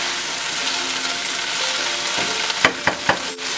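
Blanched kale and red pepper sautéing in a pan, a close, fairly loud hiss of frying, with a few quick clattering stirs of a utensil near the end and no speech.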